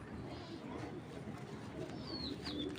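A racing pigeon from 2017 gives soft, low cooing close by, a muffled rolling burble over a faint steady background hiss.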